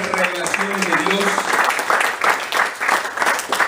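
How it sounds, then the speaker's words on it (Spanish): Church congregation applauds during a sermon, a continuous burst of clapping with a voice speaking over the start. "Yo le daría un aplauso al Rey por eso."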